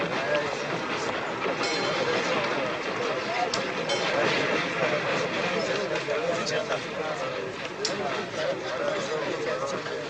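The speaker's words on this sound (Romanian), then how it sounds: "ți-a venit trenul. E în întârziere cu 2 ceasuri" A train arrives at a station, a continuous rolling rumble with faint rail clatter and scattered clicks under people talking.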